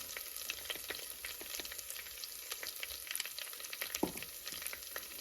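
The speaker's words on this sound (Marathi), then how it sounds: "जराशी आलं लसूण पेस्ट पण भाजू द्यायची" Ginger-garlic paste frying in a pan for a spicy crab curry, a faint, steady crackling sizzle with a few sharper pops and stirring touches, no voices.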